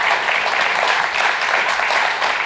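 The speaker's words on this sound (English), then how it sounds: "Let's give them a round of applause." A room full of people claps for an advisory panel at a startup demo day, a dense, even wash of applause that stays loud throughout.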